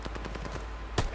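Video game gunfire in a hard point battle, a rapid string of shots under a steady low hum, then two louder sharper bursts near the end of a brief moment.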